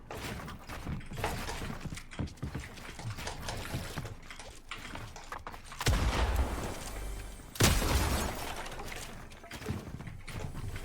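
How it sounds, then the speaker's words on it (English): Gunfire in the Fortnite video game cracks out in rapid bursts among other in-game effects, with two loud heavy blasts standing out and a busy, dense mix of action sound throughout. "I'm shooting this dude, it's not doing any damage"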